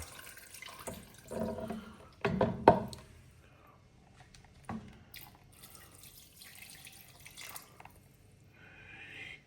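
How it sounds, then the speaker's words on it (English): A kitchen faucet pours water into a pot of macaroni, with intermittent splashes, drips and clunks rather than a steady stream, fairly quiet and close. "Then you're going to fill it with water until it just covers the pasta."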